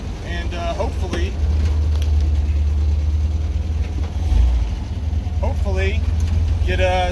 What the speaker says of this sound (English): get a 0 to 60 time in on the MGB